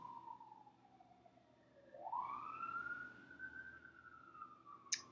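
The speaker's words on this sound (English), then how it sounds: "Sorry about that siren." Emergency siren from a firehouse two blocks away, a single rising and falling wail that swells as it draws closer and stays steady, heard moderately loud with no talking.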